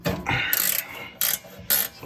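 A ratchet wrench clicks in short, sharp bursts while backing out 12 mm bolts on a small tractor, three or four quick rasping runs separated by brief pauses, close up and loud.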